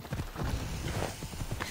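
Horse hooves clop and pound in a quick galloping rhythm in the game Assassin's Creed Odyssey, close and fairly loud, with a low rumble under the steps and no talking.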